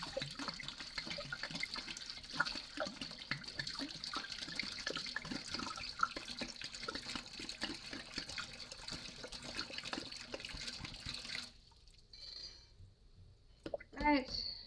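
Water poured out of a container while sanitizing equipment for a batch of mead, a continuous splashing rush that stops abruptly near the end, followed by a few brief clinks.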